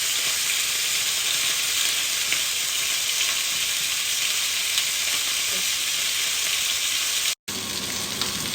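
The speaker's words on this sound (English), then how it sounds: "That's the last of the beef cheeks being seared now." Beef cheeks sear in a hot pan with a steady, dense sizzle and fry crackle that runs loud and unbroken, stopping abruptly for a split second near the end before resuming.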